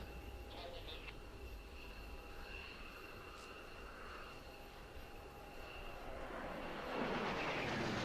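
A Patrouille de France Alpha Jet solo flies a display at the Volkel airshow in 2013. Its distant jet roar is steady and quiet, then swells louder near the end, with a faint announcer-like voice in the background.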